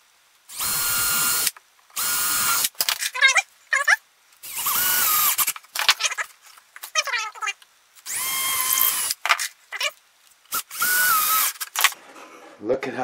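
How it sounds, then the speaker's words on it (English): A power drill bores holes in a wooden bluebird house in several separate whirring bursts of a second or two each. Short gaps and small clicks fall between the bursts. "And drill some holes in there."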